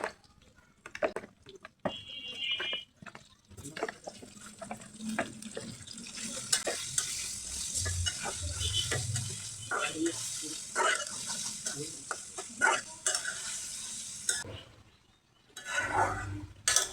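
Marinated chicken pieces sizzle as they go into a pan of fried onions, with a steady crackling hiss that runs through most of the clip, broken by clatter and stirring and occasional faint talk.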